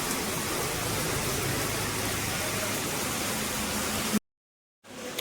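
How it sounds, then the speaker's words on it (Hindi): Heavy, continuous rain pours down during a long monsoon downpour in an Indian village, a dense, loud hiss that runs steadily before cutting out abruptly near the end. "बारिश पड़ रही, कोई कुछ नहीं कर सकता"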